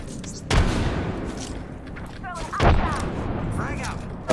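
Grenade explosions and gunfire in the battle royale game Apex Legends: two loud, heavy blasts roughly two seconds apart, each followed by lingering rumble, with chirpy electronic effects and steady game noise throughout.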